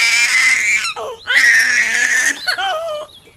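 A baby girl cries from hunger in high, strained wails broken by short gasping pauses, the sobbing rising and falling over a few seconds, close and fairly loud.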